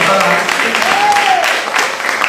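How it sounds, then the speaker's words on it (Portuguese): A church congregation applauding together during a sermon, dense continuous clapping with voices calling out over it. "Ele merece uma salva de palmas por mim e por você."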